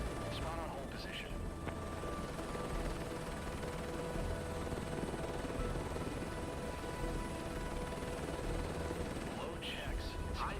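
Helicopter in Microsoft Flight Simulator 2024 during an oil rig delivery, a steady loud rotor and engine drone running throughout, with brief faint voice fragments near the start and end.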